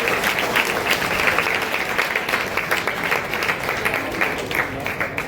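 Sustained audience applause fills a career guidance seminar of a community society in Navsari, a dense, steady wash of clapping hands lasting several seconds at even loudness with no voices on top.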